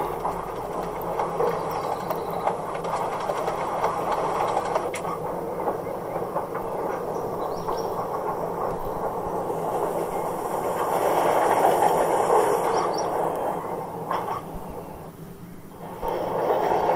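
Heavy toy or model train rolling along track, a steady rumbling run with faint rhythmic clatter that swells louder toward the end, no talk.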